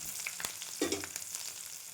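Small chopped ridge gourd pieces fry in hot oil, close sizzling with scattered crackles and a few stirring knocks and scrapes, steady and moderately loud without any voices.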